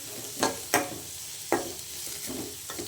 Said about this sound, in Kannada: ಇವಾಗ ಅದನ್ನು ಸ್ವಲ್ಪ ಚೆನ್ನಾಗಿ ಫ್ರೈ ಮಾಡ್ಕೊತೀನಿ ಟೊಮೊಟೊನ